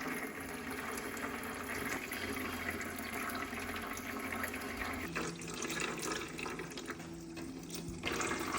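Water from a pump-powered bird bath shower in a cage runs and splashes continuously at close range, steady and fairly quiet, with a small shift in tone partway through.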